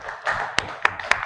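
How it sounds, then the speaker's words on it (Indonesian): A class of seventh-grade junior high pupils gives a short burst of applause for a classmate, a brief patter of hand claps with a few sharper individual claps standing out near the end, close and clear. "tepuk tangan buat Aidil."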